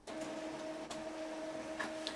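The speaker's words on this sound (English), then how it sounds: "I'm going to do a nozzle check." Epson EcoTank ET-M1170 printer running a nozzle check, a steady close mechanical hum with a faint whine and a few soft clicks, no voices over it.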